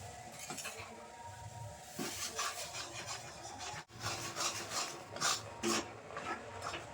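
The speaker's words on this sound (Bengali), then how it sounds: "অল্প অল্প করে আতপ চালের গুঁড়ি দেবো আর মেশাতে থাকবো" Rice flour being stirred by hand into boiling water to form dough for dudh puli pitha, giving a continuous close scraping and rubbing texture with a brief pause midway and no talk.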